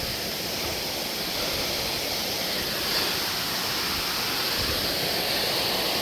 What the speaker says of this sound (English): Upstream, you can see they got the river stream over here.